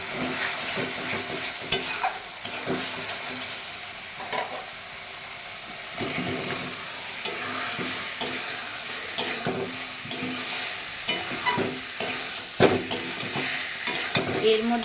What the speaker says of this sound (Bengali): পেস্টটা দিয়ে এটাকে কিন্তু অনেকক্ষণ ধরে কষাতে হবে যতক্ষণ না টমেটোর স্মেলটা চলে যাচ্ছে